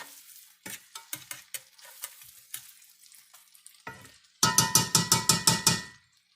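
Onion frying in a pan: scattered light crackles and pops at first, then a louder burst of rhythmic hissing and stirring for a couple of seconds before fading out.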